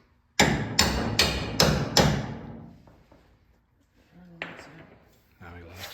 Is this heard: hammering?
yes